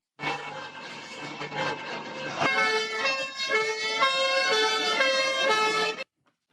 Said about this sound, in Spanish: el incesante sonido de las sirenas de los equipos de emergencia que no iban a dejar de sonar